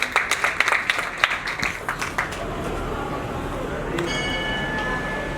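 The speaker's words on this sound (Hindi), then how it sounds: "एक बार जोरदार तालियां सभी के लिए।" A crowd at a religious ceremony claps loudly in an irregular burst that thins into a steady wash, followed by a ringing tone near the end.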